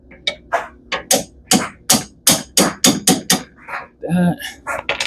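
Sharp hammer taps bend a metal lock tab on a 1971 Volkswagen Super Beetle, ringing out one after another in a steady series of close, metallic strikes.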